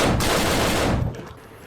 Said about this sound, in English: It is the same ear-piercing gunshot sound used for every environment, spammed over and over and over.